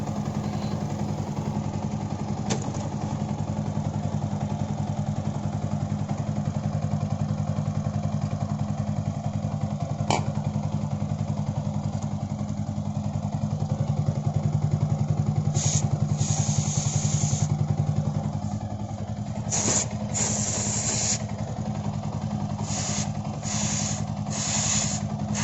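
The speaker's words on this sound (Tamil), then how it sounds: "அண்ட் தென் பைக்கை ஸ்டார்ட் பண்ணி ஃபஸ்ட்டு கியரில் போட்டுக்கோங்க." A motorcycle engine idles and runs in first gear with its rear wheel turning during chain cleaning, a steady low mechanical drone close by, with a few sharp spray bursts from a chain-cleaner can near the end.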